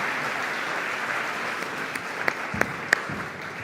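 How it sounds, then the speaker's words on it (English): Audience applause at a business event in Mumbai, a dense, even roar of clapping throughout, with a few sharper individual claps and thumps standing out near the end. "we need a maximized and Mickey Mising round of applause. Come on, bring the roof down"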